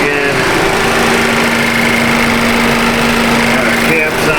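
A 2014 Ford Focus idles with its air conditioning running, a loud, close, steady engine drone with a constant tonal hum throughout, and a voice seems to speak over it.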